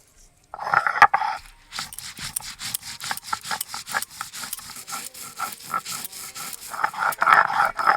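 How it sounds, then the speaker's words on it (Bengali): Washed mustard seeds ground by hand on a stone, a steady rhythmic rough scraping and rubbing, close and moderately loud, repeating in quick back-and-forth strokes for several seconds. "সরষেটা ধুয়ে রেখেছিলাম, এখন বেটে নেব"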